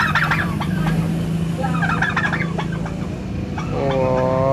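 A large turkey gobbles in rapid bursts, close and loud, over steady outdoor background noise.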